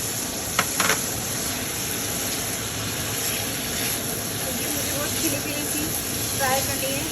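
Capsicum and tomatoes fry in a pan with a soft, continuous sizzle and hiss, while someone talks over it throughout.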